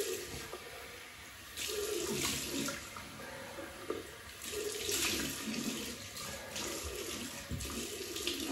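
Running water rinses alum off a face after a shave with a synthetic-knot brush, a steady tap-like flow at close range with louder gushing surges and splashes, no voices.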